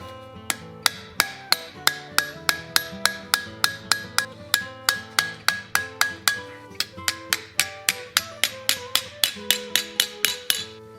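A hammer tapping 1/8 inch rivets into a hand-forged iron chess piece, a long run of sharp metallic strikes at a steady, fairly quick pace with ringing overtones, close up and alone, with a short break partway through.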